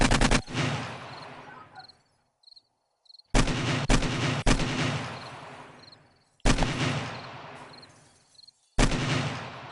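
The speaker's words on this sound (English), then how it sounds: "Maybe if I fire off my gun." Gunfire in the zombie survival game 7 Days to Die, loud single shots that ring out and decay, about four spaced seconds apart, with quiet night insect chirps in the gaps.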